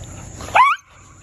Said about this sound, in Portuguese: Esse grito aí é porque esse cachorro aqui é o Juvenal e ele é escandaloso